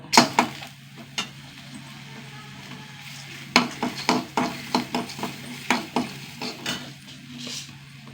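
Black gram dal and dried red chillies frying in a little oil, heard as a quiet sizzle broken by sharp clinks and scrapes of a spoon against the pan in irregular bursts.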